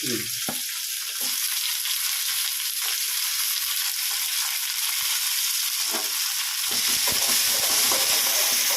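Onions, one green chili and curry leaves fry steadily in a pan with a constant broadband sizzle, joined by a few stirring scrapes at the start and a louder crackle near the end; no one speaks.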